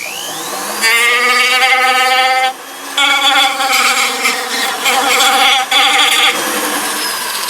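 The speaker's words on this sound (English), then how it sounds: "There's a tiny bit of a bevel here, so I'll grind that." Close, loud whine of a cutoff wheel grinding a small bevel on a prop replica, a harmonic-rich tone that rises at the start and runs in steady passes with brief drops as the wheel lifts off.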